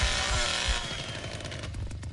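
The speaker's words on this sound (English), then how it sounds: "I can't hear you because this motherfucking chainsaw is so damn loud." Chainsaw in the game Texas Chainsaw Massacre: loud, buzzing motor whine with pulsing revs, close up, easing off slightly partway through.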